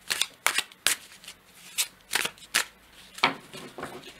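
Marseille tarot cards are drawn and handled in a quiet room, making a series of sharp papery slaps and flicks in irregular bursts, close and clear.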